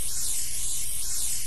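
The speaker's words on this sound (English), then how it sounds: "Spray some water." Water spraying while cleaning a pool in the video game Cleaning Simulator: a continuous, loud, even hiss of spray with no break and no talk.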